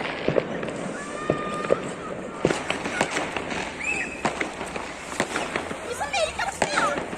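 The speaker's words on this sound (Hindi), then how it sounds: "वो छत पे चढ़े हुए पटाखे चला रहे हैं ऊपर।" Rooftop New Year firecrackers in Italy burst in scattered sharp bangs and crackles, some near and some distant, while whistling rockets and a voice speaking come through between the blasts.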